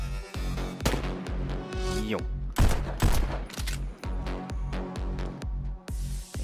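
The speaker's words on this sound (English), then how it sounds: "Shoot enemy. Bang." Pistol shots in the VR rhythm shooter Pistol Whip, firing crisply and loudly in a steady beat-locked rhythm over pounding electronic music, with a brief spoken word from the player.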